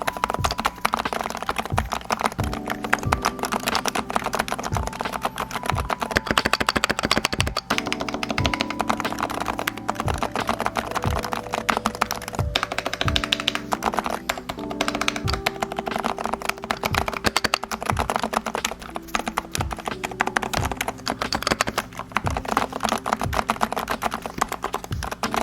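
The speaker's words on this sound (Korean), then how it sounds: "가장 중요한 타건음을 여러분들에게 들려드려야겠죠" Typing on a mechanical keyboard fitted with stabilizers, continuous close keystrokes with sharp clacks and deeper thocks from the larger keys, alone apart from faint music in the background.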